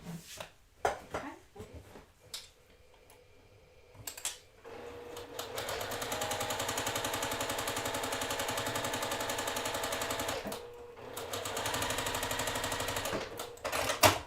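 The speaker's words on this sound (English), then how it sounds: "So I'm going to sew 1/4 inch away on the light purple, the one that I put on top." A sewing machine stitches a quarter-inch seam through light purple quilting fabric. It runs in a steady, continuous whir for several seconds, pauses briefly, then runs again, with a few soft handling clicks before the first run.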